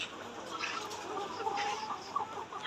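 Layer chickens cluck and murmur softly together in a poultry shed, a faint, busy chorus of fowl at a distance indoors.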